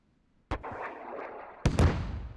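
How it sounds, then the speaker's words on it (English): In a squad-based video game, a heavy anti-tank weapon fires with a sharp blast and rumbling tail, followed about a second later by a louder, double-cracked impact explosion. "first anti-tank hitting his target over there, Khalil and Klim"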